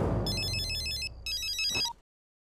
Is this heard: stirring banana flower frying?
no